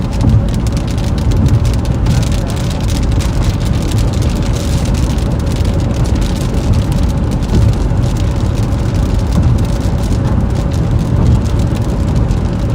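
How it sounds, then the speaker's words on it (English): Steady, heavy rain drums on a car during a storm chase through an Illinois and Indiana tornado and hail threat, a constant loud wash of droplets with no voices. "More rain."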